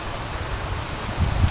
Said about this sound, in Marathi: बघा ठीकठाक पाऊस पडतो इकडे